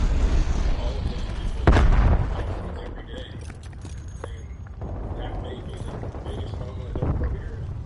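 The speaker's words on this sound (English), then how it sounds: "Napalm strike inbound." Napalm strike explosions in the multiplayer video game Black Ops Cold War, a heavy boom near two seconds followed by rumbling bursts and another strong blast near seven seconds, with radio-style game voices over the top.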